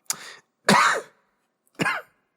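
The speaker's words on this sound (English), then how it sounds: "Well-timed cough there, buddy." A person coughs and clears their throat, three rough bursts spaced across a couple of seconds, close and loud with silence between them.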